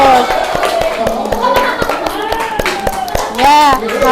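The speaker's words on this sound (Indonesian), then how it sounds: "Tepuk tangan untuk kelompok 3." A classroom of students claps for a student group in a steady rhythmic pattern of sharp, evenly spaced claps, with voices speaking and chanting over the clapping.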